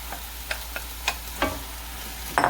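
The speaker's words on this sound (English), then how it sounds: "let's get the meat cooking" Ground meat fries with mushrooms in a pan over high heat, a soft sizzle broken by several short stirring scrapes and a louder clatter at the end.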